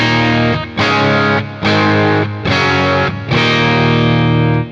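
Custom Shop Telecaster played through an overwound pickup, loud and distorted, with four or five sustained chords separated by brief gaps, each struck hard and held, close and alone without voices.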